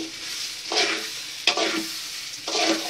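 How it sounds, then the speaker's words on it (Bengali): Ingredients for pulao frying in a pan, a close, loud sizzle broken by three rhythmic bursts of stirring scrapes, with no talking. "একটু ভালোভাবে ভেজে নি।"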